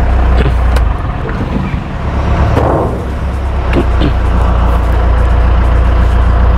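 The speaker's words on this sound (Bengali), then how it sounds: "গাড়িটা স্টার্ট করে দেখে নিচ্ছে।" A second-hand Mahindra Bolero pickup, 1.3 standard model, runs loud and close, its engine rumbling steadily with a brief rise partway through, no talk over it.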